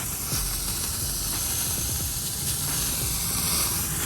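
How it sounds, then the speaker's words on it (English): A steam cleaner releasing regular steam gives a steady, even hiss that pours out continuously at moderate volume, with no talking. "Now this is just the regular steam,"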